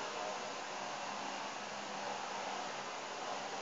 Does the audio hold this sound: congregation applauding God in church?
no